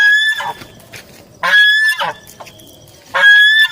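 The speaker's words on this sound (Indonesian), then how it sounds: "Dan ini adalah contoh suara angsa keling ya teman-teman, bisa didengar sendiri ya." An angsa keling goose honks loudly and close by, with three drawn-out, nasal calls separated by short pauses.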